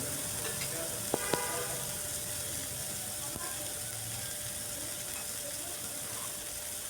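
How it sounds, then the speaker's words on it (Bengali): Tomatoes sizzle faintly in a frying pan with a cumin tempering, a soft continuous fry broken by a few sharp clicks of stirring utensils, quiet and steady throughout. "টমেটোটা দিয়েও কিছুক্ষণ নাড়াচাড়া করে নিচ্ছি।"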